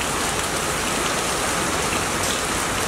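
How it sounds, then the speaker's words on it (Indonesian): Rain falls outdoors as a bus arrives at Sidolig stadium, making a loud, even hiss of drops striking surfaces nearby, continuous and heard alone without voices. "Ini hujan."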